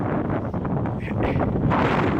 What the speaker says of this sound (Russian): ветер такой, и дождь